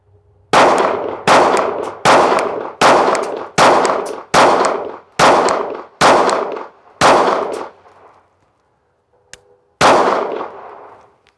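A Sig Sauer P365 pistol fires a 10-round magazine outdoors: nine loud, sharp shots in a steady rhythm about one per second, then a short pause, a small click, and a tenth shot, with no voices.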